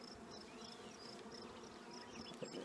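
Honeybees hum softly inside an opened beehive during an inspection, a low, constant buzz with individual bees whining past up close, no talking.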